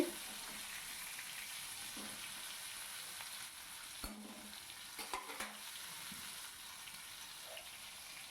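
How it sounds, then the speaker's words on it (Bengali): Pieces of pointed gourd (potol) with salt and turmeric fry in oil with a constant, even sizzle, broken by a few scraping stirs of the spatula midway; close and without talk. "পটলটাকে সুন্দর করে ভেজে নেবো ভালো করে নাড়াচাড়া করে ভেজে নিতে হবে"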